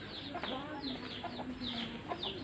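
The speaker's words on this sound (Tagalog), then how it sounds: "Ayan, mga manok. May manok dito." Several chickens cluck repeatedly nearby in Batangas, Philippines, a busy overlapping chorus of short calls with faint background noise.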